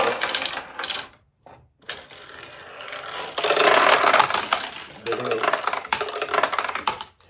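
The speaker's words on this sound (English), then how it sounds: "if you put balls in the upper hopper and they run right out of the machine" Steel balls pour out of a restored vintage 1975 Daiichi pachinko machine, a dense metallic clattering rush that swells for several seconds then rattles on more sparsely, with brief pauses and a voice speaking nearby.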